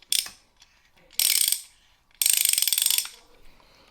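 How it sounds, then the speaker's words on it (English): A ratcheting tap wrench from a tap and die set clicks through three quick bursts of rapid metallic ticks, the last one longest, close up with no talking. "Now that's locked in there, and it ratchets."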